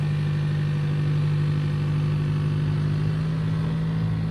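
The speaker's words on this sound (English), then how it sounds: "I will let my foot off of the brake pedal, and we will slowly start to give this some gas" A Toyota Tacoma Trailhunter in 4 high climbs a steep, dry incline, its engine making a steady, even drone throughout with no throttle surges and no talk.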